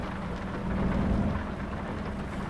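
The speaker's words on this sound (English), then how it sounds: "Oh god, it's still raining, that's right." Rain falls steadily in American Truck Simulator, a dense wash of hiss with faint low rumble underneath, continuous and even with no voices.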